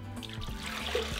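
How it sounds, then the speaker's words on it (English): Water trickles and splashes as it is poured into a blender, a short steady stream with a faint clatter near the end. "add the water into my blender"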